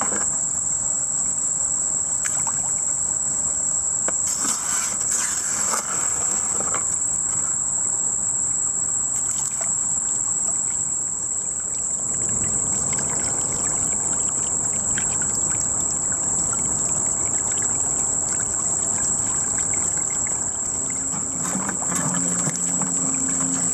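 Water runs steadily through a gold sluice box outdoors, a continuous trickling wash under a constant high-pitched insect drone, with occasional small knocks and splashes.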